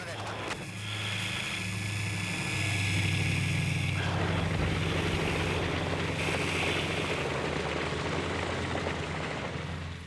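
Vickers Vimy biplane engines droning in flight while the aircraft loses altitude with a malfunctioning starboard engine, a steady loud rumble with wind noise that shifts midway, voices speaking over it.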